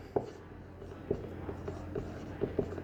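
Marker or chalk on a board writing out the name Lawrence Kohlberg, quiet irregular taps and short scratchy strokes close by in a quiet room.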